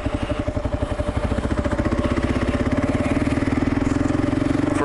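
Kawasaki KLR motorcycle engine pulling through first and second gear at low speed on a back road, a steady loud thumping exhaust pulse that rises in pace as it accelerates, close to the rider, with no talking.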